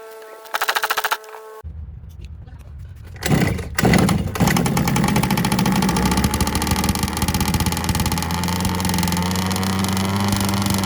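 A Proboat Riverine 22 RC boat's upgraded gas engine fires up after a few short sputtering bursts, then settles into a loud, steady buzzing run close by.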